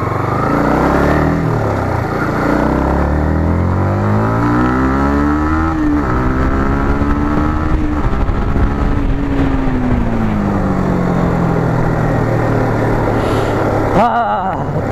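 A Yamaha MT15 BS6 motorcycle is ridden and revved hard, its engine pitch climbing and dropping through repeated gear changes in a loud, close, continuous drone with wind roar over it.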